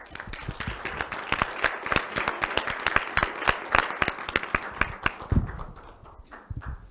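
Audience applause closing a panel at a parallel session of an architecture, art and design school, a dense round of clapping from a room of people that holds steady, then thins out to scattered claps near the end.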